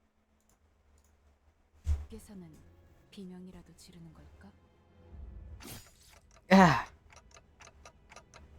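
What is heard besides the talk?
clock-like ticking sound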